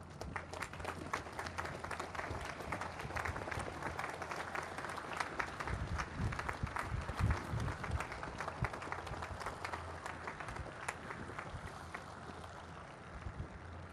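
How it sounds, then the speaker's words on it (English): Crowd applauding Navy spouses and children at the commissioning of the destroyer USS Ralph Johnson (DDG 114), a sustained, dense wash of clapping from a large outdoor audience with wind noise, steady for the whole stretch. "if all the spouses and their children would please stand and we give them a round of applause"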